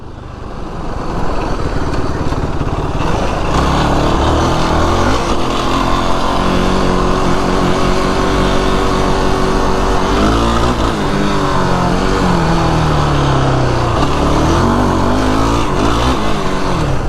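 A 2025 Yamaha YFZ 450R ATV ridden at no more than half throttle, its engine roaring loud and close throughout, pitch rising and falling with shifts through the slipper clutch.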